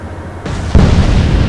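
A warship blows up in the naval strategy game Atlantic Fleet, a loud, sustained explosive roar that builds and then hits a heavy peak, rumbling on without pause.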